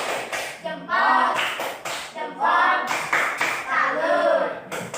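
Schoolchildren in a classroom do a group clapping cheer for the second team, rhythmic bursts of hand claps mixed with their chanting voices, loud and close.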